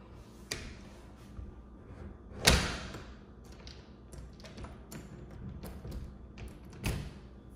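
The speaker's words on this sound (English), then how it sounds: "I'm gonna shut this door." An interior door in an empty college apartment shuts with a sharp thud near the middle, preceded by a lighter tap and followed by a later knock amid quiet room noise.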